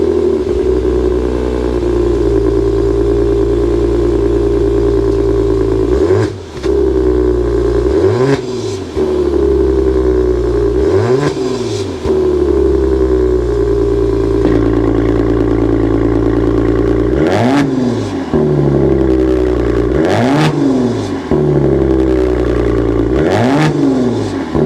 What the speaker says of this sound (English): start it up, give it some revs so you can hear that exhaust note